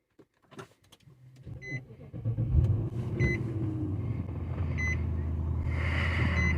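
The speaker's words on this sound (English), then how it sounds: "Start the vehicle." Infiniti FX50 SUV starting up: a brief cranking burst gives way to a steady idle rumble, with periodic electronic beeps and a hum like climate fan noise building as the engine runs.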